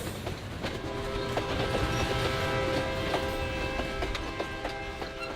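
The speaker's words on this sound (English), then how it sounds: "Slack snapping taut like falling dominoes with a steady build toward great speeds." A Burlington Northern freight train rolls along steel rails with a steady, rhythmic clickety-clack of wheels over joints, loud and continuous without pause.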